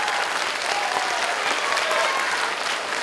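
Steady, dense applause from a large crowd of students at a high school admissions information session, continuous and fairly loud throughout without a break.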